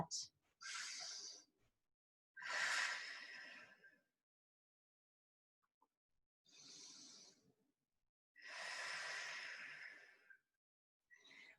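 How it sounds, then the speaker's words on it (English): Four slow, airy deep breaths during a child's pose in a fitness class, each a soft breathy rush of a second or two separated by quiet pauses, faint and close. "Take 2 deep breaths."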